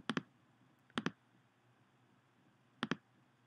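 Three quiet computer mouse clicks, each a crisp double tick of press and release, spaced irregularly about a second or two apart in a quiet room with no talking.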